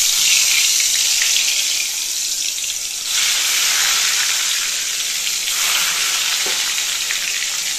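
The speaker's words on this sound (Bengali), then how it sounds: "গরম গরম তেল দিয়ে দিই বেগুনগুলো" Marinated eggplant slices frying in hot oil, a loud, steady sizzle and hiss that holds throughout with slight dips and swells as the pieces settle in the pan.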